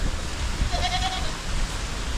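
A hornless kid of a blackhead goat gives a single short bleat against a faint, noisy background, with no talk.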